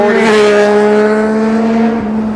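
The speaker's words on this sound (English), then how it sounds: "Thanks, guy with the motorcycle." A motorcycle on a road in Maine passes close by, a loud, steady engine tone that drops slightly in pitch and fades a little near the end.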